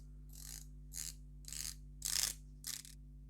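Ratcheting dive-watch bezel on a SteelDive MM300 being turned, five short bursts of fine metallic clicking with brief pauses between, close and quiet over a low steady hum.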